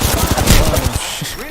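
Rapid automatic gunfire from a shooter video game, a dense burst of close shots for about a second while the player is hit, then dropping off into quieter game sounds with brief voice.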